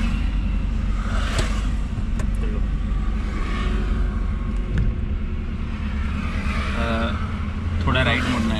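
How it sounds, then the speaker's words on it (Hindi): A car drives on a cold morning during a driving lesson in Europe, its low engine rumble continuous and close, with brief higher noises near the end. "गाड़ी आ रही है"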